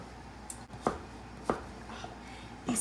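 Cooked potatoes being cut with a knife for a Mexican street corn potato salad, three soft, crisp chops spaced about half a second to a second apart, close and fairly quiet against a faint room hiss.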